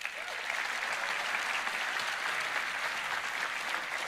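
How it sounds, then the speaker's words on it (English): Steady, dense applause from a large keynote audience at Roblox RDC 2024, filling the hall evenly at full strength for the whole stretch with no pauses. "Let's give him a round of applause."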